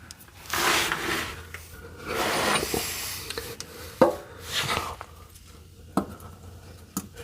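An oil filter is twisted by hand onto an old Dodge engine, giving intermittent scraping and rubbing bursts of metal and rubber gasket. A few sharp knocks and clicks come close up between quieter pauses.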